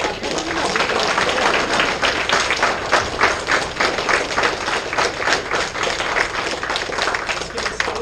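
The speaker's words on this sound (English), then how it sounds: "Everybody clap for her." Audience applause at a kids' jiu-jitsu belt promotion ceremony, steady dense clapping from a crowd lasting throughout, fairly close and continuous with a faint voice underneath.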